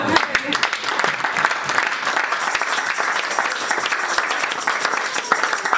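An audience at a religious deliverance gathering claps and cheers continuously, dense irregular hand claps forming a loud, sustained wash with voices mixed in.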